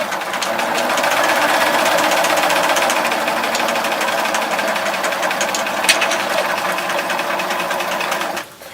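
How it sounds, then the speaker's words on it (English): A sewing machine stitches log cabin quilt block pieces for a flip flop quilt, a fast, even mechanical chatter running steadily for about eight seconds before stopping. "I'm just going to line up those pieces just like that and sew it through"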